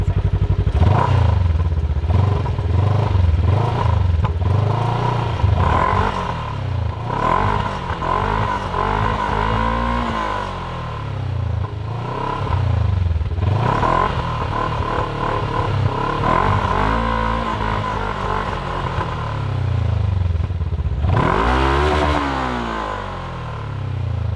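A Segway Villain SXS UTV engine idles and revs repeatedly through its stock dual exhaust, the pitch rising and falling in loud, close surges with a deep rumble throughout.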